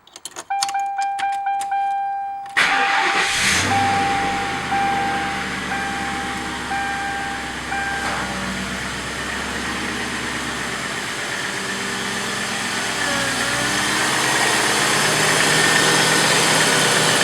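A 1998 Ford Crown Victoria P71 police car with a 4.6 litre SOHC V8 cranks briefly after a jingle of keys, then fires and settles into a steady, loud, close idle that holds for the rest of the stretch.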